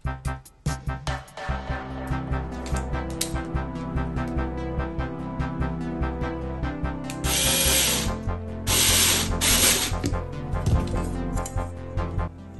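A power screwdriver drives two screws to fix hanging hardware onto the back of a burlap-covered canvas, heard as a loud sustained whirring motor with short bursts, a pause and a higher-pitched surge near the end, alone without speech.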